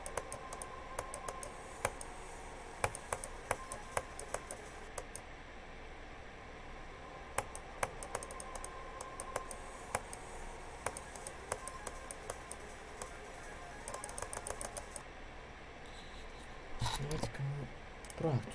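Computer keys are pressed while playing the Nine Circles game, producing sharp, faint clicks scattered in quick bursts and isolated taps across a long stretch, with dense rapid runs near the end.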